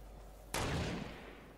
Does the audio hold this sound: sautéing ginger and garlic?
no